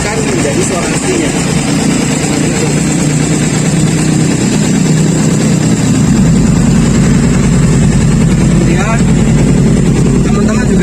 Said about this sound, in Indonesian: Jadi suara mesin akan menjadi suara aslinya.